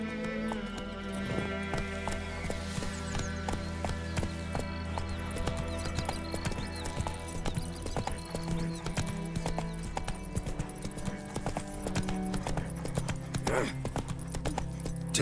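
Roach, the horse in The Witcher 3: Wild Hunt, gallops with a steady, close clip-clop of hooves running throughout, layered over sustained tonal game music.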